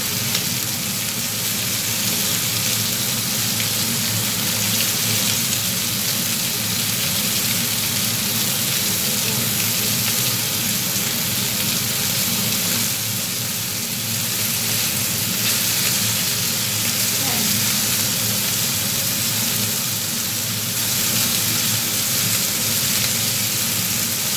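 Pork sizzles steadily in a hot pan as it is seared, a constant close-up frying hiss that runs unbroken throughout with no one talking.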